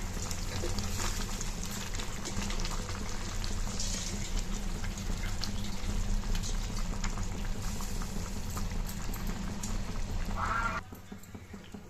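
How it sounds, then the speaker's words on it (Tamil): Water bubbles at a vigorous rolling boil in a pot for biryani, a dense, steady churning that runs continuously for about eleven seconds before suddenly dropping away. "தண்ணி நல்லா கொதிக்க ஆரம்பிச்சிச்சு"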